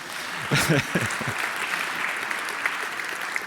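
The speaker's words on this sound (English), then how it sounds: "applause for Exhain, please." Applause from a conference audience, a burst of clapping that swells briefly and then continues steadily at a moderate level.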